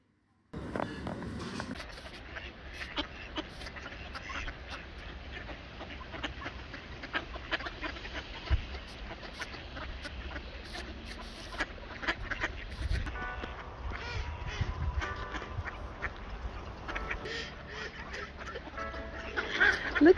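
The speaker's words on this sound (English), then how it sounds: "Look at all the ducks!" Ducks quack on a farm in Scandinavia in early spring, a busy scatter of calls running steadily through the clip amid outdoor background noise.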